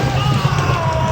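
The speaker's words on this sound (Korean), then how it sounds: "사람들이 부르짖는 비명소리가 들리죠?" A played recording of people screaming in hell fire gives a brief dense wash of yelling and wailing voices, loud and continuous with no pause.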